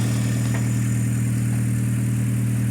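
A car engine idling steadily right after being jump started, a close, even mid-pitched hum with a constant tone and no voices.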